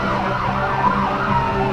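A fire truck siren wails loudly and continuously at a Christmas parade, a steady rising and falling tone with road and engine rumble beneath it.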